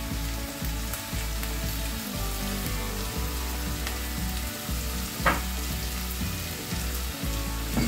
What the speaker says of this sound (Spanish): Acá lo que busco es sofreír los aliños y que quede con mayor gusto.